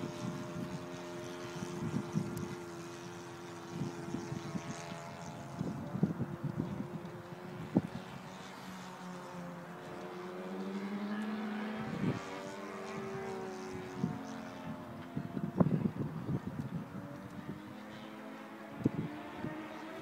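An Extra model aircraft engine droning as the plane flies on a windy day, its tone rising and falling under steady wind buffeting the microphone, with scattered sharp gusts and no talk.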